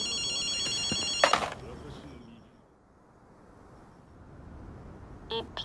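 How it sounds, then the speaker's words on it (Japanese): In the video game Ghostwire: Tokyo, a telephone rings in short bursts of bright trilling bells, with one burst at the start and another near the end and a quieter pause between them. "電話が鳴っているみたいだな。"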